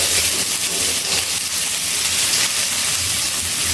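Chopped onions, two medium ones, dropped into hot oil in a kadai, a loud, steady, broadband hiss and sizzle filling the whole stretch.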